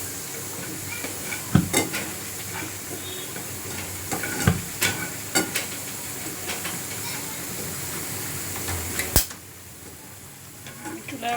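Berestha, thinly sliced onions frying in a pan, give a steady, bright sizzling hiss broken by occasional sharp pops and clicks, the sizzle easing near the end.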